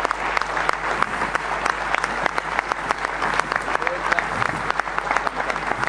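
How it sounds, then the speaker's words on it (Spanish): Standing ovation at a United Nations committee session: a dense, steady wash of clapping from many hands that holds at an even level throughout, with no break. "en el ámbito de las Naciones Unidas, donde en general no se aplaude, se aplaudía y de pie"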